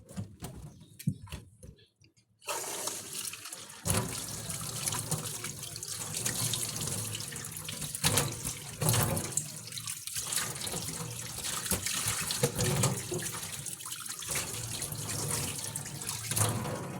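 Tap water runs steadily into a sink while dishes and a cooking pot are washed, with splashing and clinking, continuous throughout, with a faint bird call in the background.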